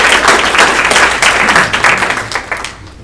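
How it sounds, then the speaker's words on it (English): An audience at a presentation gives a round of applause for a team, a brief burst of dense clapping from a crowd that swells and then tapers off. "I just like to give them a round of applause for everything they've done"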